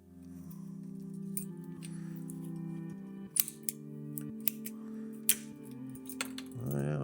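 Sharpened loppers snip through the branches of a hardwood shrub in a series of sharp, close woody clicks and cracks spread over several seconds, with faint rustling between cuts.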